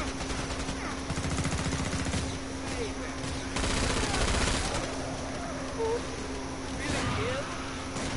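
Gunfire from the shooter game Killing Floor 2 rattles in sustained bursts under a constant mid-level game soundscape, with a steady tone beneath and someone talking over parts of it.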